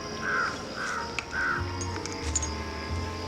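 Crow cawing three times in a steady rhythm, moderately loud and a little distant, over faint background noise with no talk.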